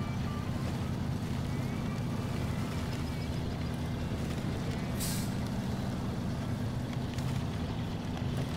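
Truck engine in SnowRunner drones steadily and loudly at close range, with an air brake hiss rising briefly near the middle.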